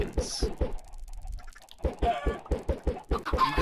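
Chickens in the video game Minecraft cluck in quick repeated bursts, close and fairly loud, with a short lull in the middle before the clucking resumes.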